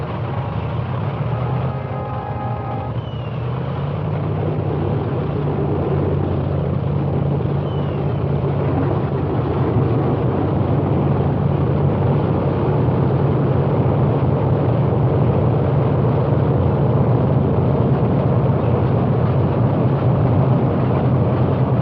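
WWII bomber aircraft engines starting up and settling into a steady, loud, continuous droning rumble, with a brief rougher stutter early on before the sustained roar.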